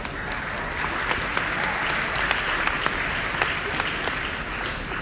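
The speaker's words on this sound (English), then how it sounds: "Thank you for clapping for me." A live audience at a business event applauding, dense continuous clapping from many hands with crisp sharp claps poking through, steady and fairly loud for the whole stretch with no talk.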